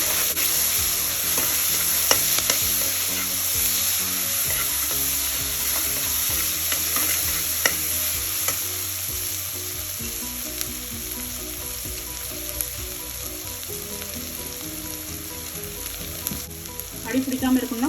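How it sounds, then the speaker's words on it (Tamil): Ginger garlic paste sautés in a pan for vegetable biryani, a steady close sizzle with constant stirring scrapes and occasional clinks running throughout, no talking. "எப்போவுமே இஞ்சி பூண்டு சேர்த்ததுமே கொஞ்சம் நேரம் கைவிடாமல் வதக்குங்க"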